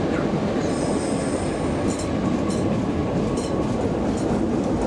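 A Class 319 Capital Connect electric train runs past close by with a loud, steady rumble. Bursts of wheel squeal rise above it, with faint clicking from the rails and no voices.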